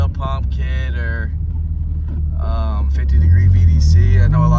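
A Honda Civic with a K24 engine swap and manual conversion accelerates, its engine rumbling low and loud and rising in pitch near the end, with people talking over it.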